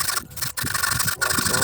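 Close-up rhythmic rasping of a hand saw cutting wood, with brief pauses between strokes.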